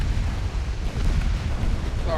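Ammo detonation on a warship in the naval strategy game Ultimate Admiral Dreadnoughts, a heavy rumbling boom that rolls on as a sustained low roar.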